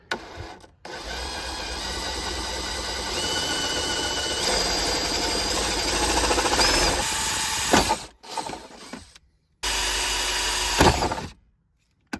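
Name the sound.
power drill drilling through console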